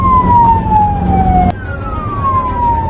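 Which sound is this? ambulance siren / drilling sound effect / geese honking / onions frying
ambulance siren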